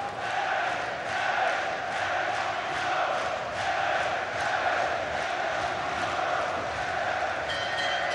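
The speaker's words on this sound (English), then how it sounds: "The crowd shouting and chanting" Boxing arena crowd at the Ricky Burns vs Kevin Mitchell fight, a dense continuous roar of shouting and rhythmic chanting filling the hall, steady and loud throughout with no individual voices standing out.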